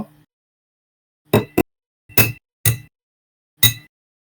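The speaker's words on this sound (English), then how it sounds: "gently crack your egg into the glass" An egg being cracked into a drinking glass, heard as sharp, close taps and cracks: a double knock, then a pause and three more separate clicks against the glass, with silence between them.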